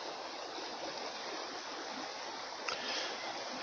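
A forest river flowing steadily, a continuous rushing wash of water heard close and fairly quiet, with no one speaking.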